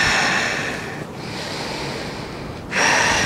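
Steady, breathy airflow of deep yogic breathing during a sun salutation sequence, a long audible inhale-like rush that dips briefly and then returns stronger, close to the microphone with no talking.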